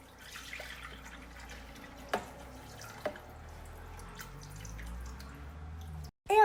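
Water poured into a Thermomix bowl while making homemade play dough with salt and white vinegar: a faint, steady trickle with a couple of small drips, heard alone and close.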